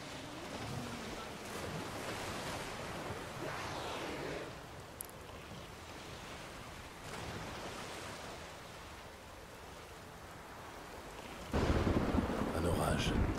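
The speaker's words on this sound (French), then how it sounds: "Ouh, tempête en vue." A sea storm in The Witcher 3 video game: continuous roaring surf and wind with low thunder-like rumbles throughout, growing louder near the end.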